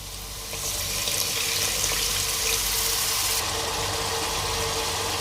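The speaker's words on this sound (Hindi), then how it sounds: "मसाले डालने के बाद इसमें थोड़ा पानी ऐड करें ताकि मसाले जल ना जाएं।" Water is poured into a pot of frying spices for fish pulao, producing a loud, steady sizzling hiss that swells after the first second and continues evenly, close and without speech.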